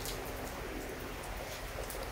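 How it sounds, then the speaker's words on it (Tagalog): Soft, steady rain patters continuously with a faint constant hum underneath and no voices. "Ayan, maulan. Sarap maligo sa ulan."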